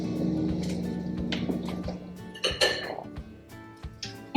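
A tablespoon of butter goes into a pan on the stove, with clattering and clinking of pan and utensils, a few sharp knocks and faint sizzling or liquid sounds close by, with no talk.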